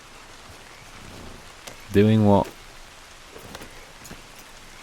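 Steady rain hisses throughout in the video game Red Dead Redemption 2, with a short burst of a voice speaking in the middle.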